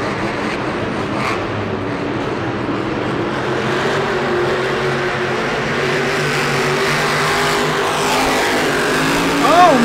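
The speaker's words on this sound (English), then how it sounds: "his throttle got stuck there coming around the corner, which is why he never let off the gas" Monster truck engine at a Monster Jam event in San Antonio, its throttle stuck open, roaring loud and continuous in an arena as the drone slowly builds, with commentary talk over it.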